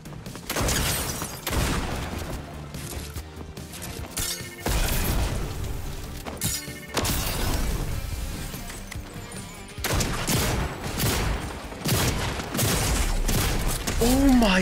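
Gunfire bursts from a Fortnite match crackle in repeated volleys with booming impacts, loud and dense across the whole stretch, while a player talks over the action.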